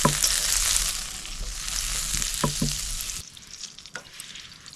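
Butter sizzling in a wok set back over a calmed campfire, a steady broadband crackle with a few stirring knocks, cutting off abruptly to quieter outdoor ambience near the end.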